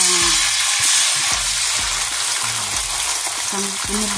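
Green onions frying in a pan with a steady, loud sizzle throughout, with faint low background sounds and occasional clinks beneath.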